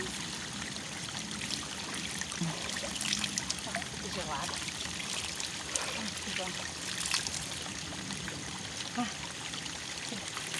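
Cold stream water trickling and pouring steadily over rocks on a mountain trail near Morro da Urca, a constant close wash of water with no clear talk over it.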